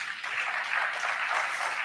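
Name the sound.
applause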